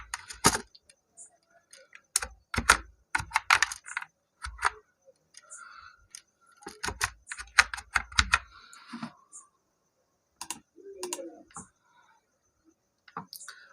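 Someone types on a computer keyboard while entering a date format in Excel 2016, with light, irregular key clicks in short bursts separated by quiet pauses.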